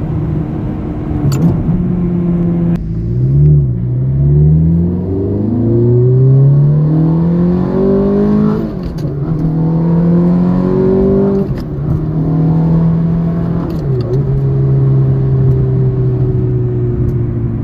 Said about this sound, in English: nothing better than a 6-speed manual 430. I mean, the gears are smooth